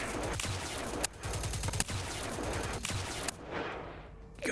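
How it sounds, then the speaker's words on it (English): Rapid bursts of automatic gunfire rattle continuously in the Mayday RP video game, dense and loud with brief gaps between volleys and no talk. "Provide supporting fire from here."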